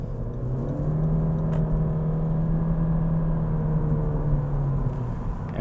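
A 2020 Honda Civic Sport Touring hatchback with a CVT accelerating on the road, its engine holding a steady, sustained drone as it gains speed, heard from inside the car without talk.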